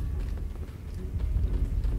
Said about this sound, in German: Ich höre Schritte, aber ich sehe die nicht.